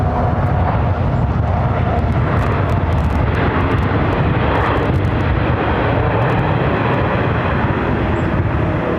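American Airlines Boeing 737-800 jet at LAX on a windy day: a loud, steady engine roar with broad rumble, sustained throughout with no talk.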